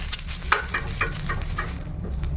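A cut onion rubbed over a hot pan before pesarattu batter goes on gives a soft, steady sizzle with a few brief, rhythmic scraping strokes, close and fairly quiet, with no talking.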